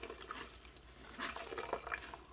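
Water squeezed out of an ENJO floor fibre mop into a bucket, heard as soft, faint trickling and splashing with a few small drips, close by and alone.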